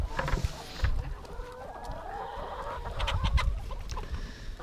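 Hens cluck and murmur close by in a loose, irregular series of short calls.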